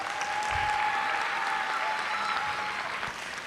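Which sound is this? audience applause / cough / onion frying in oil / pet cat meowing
audience applause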